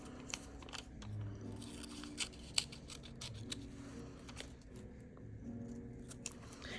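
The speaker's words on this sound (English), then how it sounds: "I use my little scissors so that I can get in there and trim the little pieces." Small scissors trimming little pieces of colored paper for a collage, quiet scattered snips and crisp clicks over a faint room hum.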